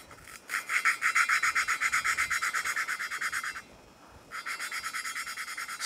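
Gritty, rhythmic grinding as an engine valve on a Polaris RZR 900 XP is lapped against its seat, rapid back-and-forth strokes running steadily, pausing briefly, then resuming, close and alone.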